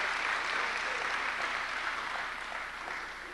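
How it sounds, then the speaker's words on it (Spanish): Steady clapping from a church congregation continues throughout, even and sustained, fading slightly toward the end. "Démosle un fuerte aplauso al Señor."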